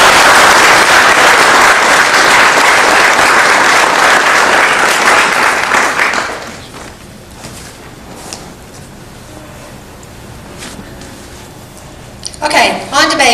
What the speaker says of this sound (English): we'd just give them a big round of applause, please